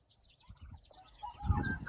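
Backyard chickens cluck and warble in a farm enclosure where rabbits and chicks roam, the soft calls starting faint then growing louder and busier near the end, with some scratching thumps underneath.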